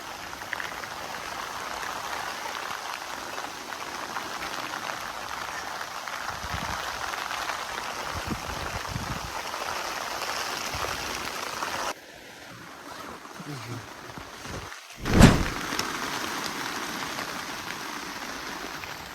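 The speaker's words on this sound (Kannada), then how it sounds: "ಫುಲ್ ಮಳೆ ಸ್ಟಾರ್ಟ್ ಆಗೋಯ್ತು ಗುರು" Heavy rain falls at a jungle campsite, a faint, steady hiss of drops that drops away to a quieter patter partway through, followed by a brief, sharp knock nearby.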